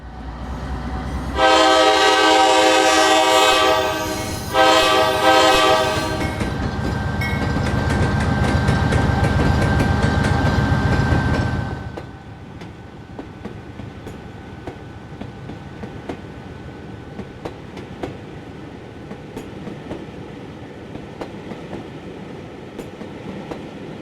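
Norfolk Southern AC44C6M diesel locomotive in Train Simulator, a loud sustained multi-tone horn blast followed by a deep engine rumble that fades to steady rolling clickety-clack of wheels over rail joints.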